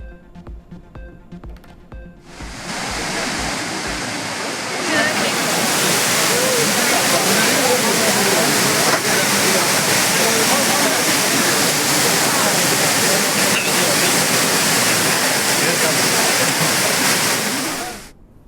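Courtallam waterfall in Tenkasi district pounds down loudly and steadily while tourists bathe beneath it, a dense continuous roar that fades in after a brief opening and runs without a break.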